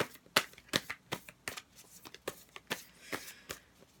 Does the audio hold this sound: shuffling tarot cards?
yes